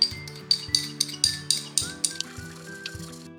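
A whisk clinks rhythmically against a bowl while sugar and vanilla extract are beaten into softened cream cheese, about a dozen bright, close taps at a steady pace, slowing toward the end.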